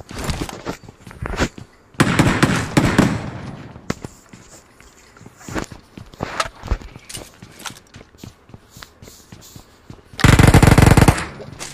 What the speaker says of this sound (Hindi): पिस्तौल से मारूंगा मैं।